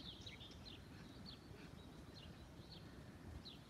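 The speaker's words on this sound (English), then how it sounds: "Can you hear all the birds chirping?" Birds chirp in a backyard on a hot morning, with short high calls repeating every second or so over steady wind noise and a low background rumble.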